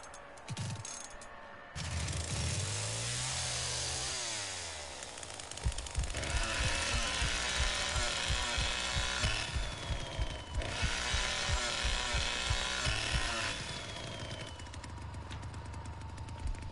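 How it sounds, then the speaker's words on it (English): A chainsaw revs and roars continuously in the Texas Chainsaw Massacre video game, loud buzzing engine noise with rising and falling pitch and rapid sputtering, no talking over it. "I'm coming, I'm turning the chainsaw in."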